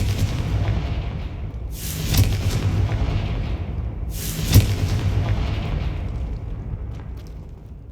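The Confringo blasting spell in Hogwarts Legacy sets off two heavy booming blasts a few seconds apart, each with a sharp crack fading into a low rumble that lingers throughout.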